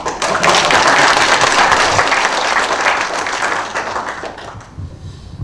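Applause from an audience at a museum concert in Pocheon, loud, dense clapping that swells at once and then gradually thins and fades over several seconds.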